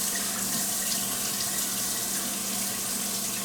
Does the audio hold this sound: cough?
no